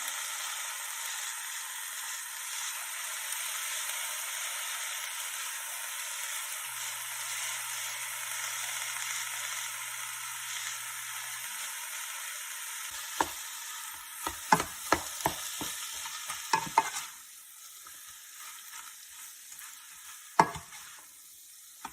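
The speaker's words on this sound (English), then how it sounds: "I'm gonna start by adding 4 tablespoons of soy sauce and mixing that around" Chicken fried rice stir-frying in a pan as soy sauce is mixed in, a steady broadband sizzle for most of the stretch, then a burst of sharp clattering spatula scrapes and knocks before the hiss drops away.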